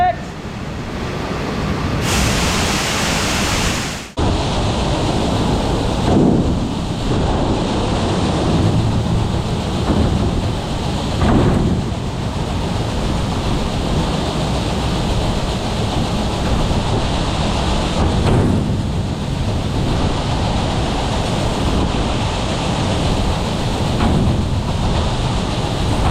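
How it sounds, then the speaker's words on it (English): Steady rain falling outdoors at a farm field, a loud continuous wash with gusts of wind buffeting the microphone and a brief sharp burst early on, with a voice speaking at times. "Rain, nothing too crazy."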